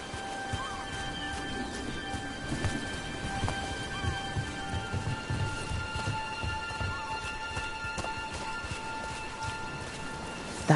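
Steady rain in Dragon Age Veilguard, a dense close patter on surfaces with a low rumble of thunder rolling underneath throughout, no voices.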